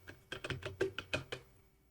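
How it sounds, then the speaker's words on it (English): Password being typed on a computer keyboard: about ten to twelve crisp, close key clicks in an irregular quick rhythm over a faint low hum, with no talking. "and then I could type in my password"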